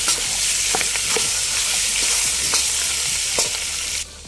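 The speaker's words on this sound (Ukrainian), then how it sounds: "У добре розігрітий казан закидаємо нашу печеревину. І захоплюємо її до стану шкварок." Pork belly pieces fry into cracklings in a well-heated cauldron, giving a steady loud sizzle with occasional stirring clicks and scrapes, and no voices.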